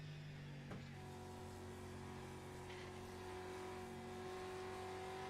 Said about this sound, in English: Running the street stock cars at Oxford Plains.